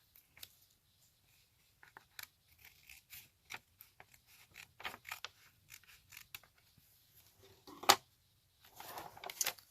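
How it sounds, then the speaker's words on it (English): Scissors snip and trim paper for a handmade junk journal, giving scattered crisp cuts and rustles, close and fairly quiet, with a sharper burst of snipping near the end. "since I've got my scissors handy"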